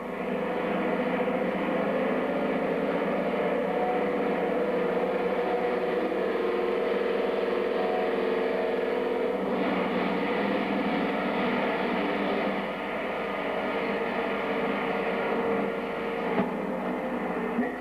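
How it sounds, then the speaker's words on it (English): A fully laden aircraft taxiing and taking off gives a steady, loud engine drone that holds for the whole stretch, with no voices. "After taxiing out to the end of the runway, the fully laden aircraft takes off"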